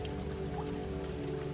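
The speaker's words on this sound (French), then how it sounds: "Tu lèves les yeux et les premières gouttes de pluie tombent" Warm rain begins to fall, soft drops pattering steadily on a surface over a low sustained ambient drone, with no voices present.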